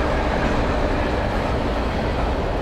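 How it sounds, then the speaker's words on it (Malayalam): A train passes at a depot in the video game Alan Wake Remastered. It is a loud, continuous rumble of rolling rail noise throughout. "ട്രെയിനിന്റെ സൗണ്ട് കേൾക്കണേ."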